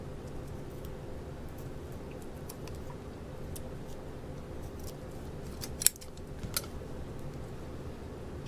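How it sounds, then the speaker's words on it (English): Scissors snip at cardboard covered with tape, a few quiet scattered clicks followed by one sharper, louder cut near the end, with no talking over it. "And then I used these scissors to make two little holes."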